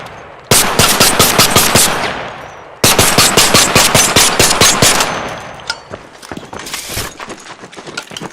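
Automatic gunfire on a post-apocalyptic testing range in ARC Raiders, two loud sustained bursts of rapid shots followed by scattered single shots and quieter mechanical clicks.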